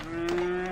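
Cattle mooing at a cattle farm in the video game Farthest Frontier, one steady drawn-out moo heard alone for under a second, moderately loud.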